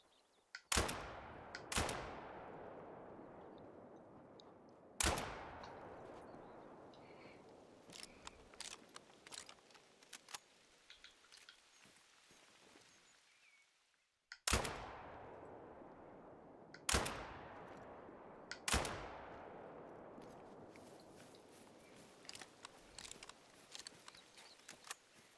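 Six shotgun blasts ring out during a hunt in The Hunter: Call of the Wild in Scotland. They come in uneven groups with long pauses between, each a sharp crack with a long echoing decay across open terrain.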